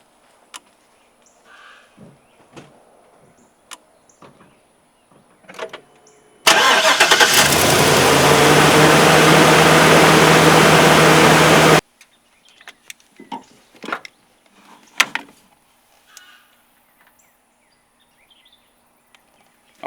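A Chevrolet Silverado 2500 with a 6.0-liter gasoline engine is boosted from a jump starter: a few faint clicks, then a cranking start into a loud, steady idle lasting about five seconds before it is shut off, followed by scattered handling noises.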